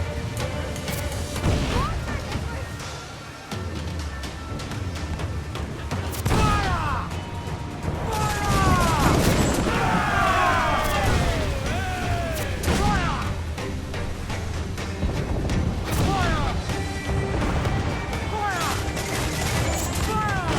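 Ship cannons firing a broadside in Assassin's Creed Black Flag, a rolling run of heavy booms and splintering crashes with shouting voices over the barrage.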